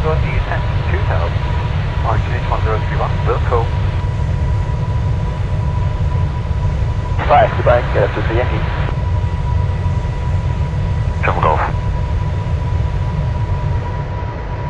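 PMDG Boeing 747-400 jet engines during a landing approach in a flight simulator, a steady low roar throughout with a few short mid-pitched chirping bursts over the top.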